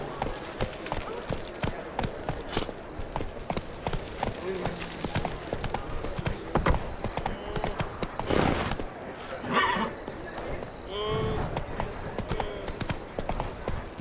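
Roach, a horse in The Witcher 3, gallops with steady rapid hoof clip-clops across the ground, and a brief whinny rises midway. The sound runs continuously over game ambience, and voices are heard at times.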